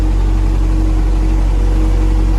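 A tractor in a muddy wheat field during fertilizer application, heard as a loud, steady low engine drone with a constant hum close by.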